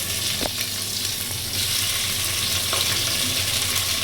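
Onions frying in a pan for mushroom brown basmati rice pulao, a steady close hiss of sizzling oil with a couple of brief stirring scrapes.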